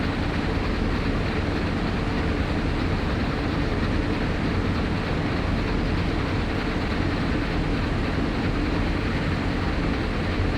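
A locomotive idling in the video game Train Sim World 6 gives a continuous, loud, dense rumble that stays steady with no breaks and no voices.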